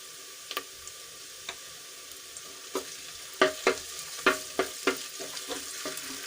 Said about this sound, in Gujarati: આપણે ડુંગળીને આછા ગુલાબી રંગની થઈ જાય ત્યાં સુધી આપણે સાંતળી લઈશું